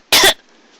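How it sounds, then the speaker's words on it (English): A single short, sharp cough voiced in an audiobook-style narration, close and loud, followed by quiet. "she heard Lyra cough from atop Caritas' back"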